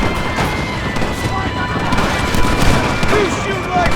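A loud, dense burst of gunfire from a Red Dead Redemption shootout with rebels, constant crackling shots and impacts layered together, close and continuous, with voices shouting underneath.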